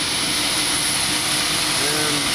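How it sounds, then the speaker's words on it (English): An airliner's auxiliary power unit running at the gate, a loud, steady jet whine and roar that stays constant with no break. "I'm gonna roll the window down and the APU will be very loud"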